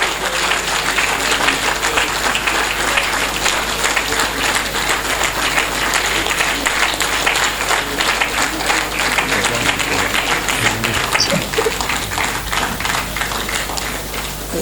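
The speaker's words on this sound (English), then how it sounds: "Please, with due respect, keep clapping until he gets to his seat." Sustained, loud applause from a large audience at a university faculty week lecture session, dense and steady throughout with a slight taper near the end.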